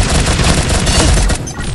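Rapid gunfire in the mobile shooter game Pixel Gun 3D, a dense, continuous burst of loud shots filling the whole stretch with almost no gaps.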